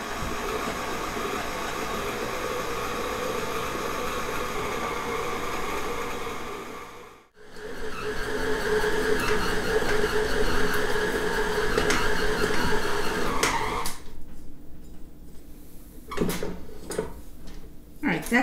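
A stand mixer kneads coffee cake dough with a steady motor drone that cuts out briefly midway and then restarts, followed by a few knocks and clatters toward the end.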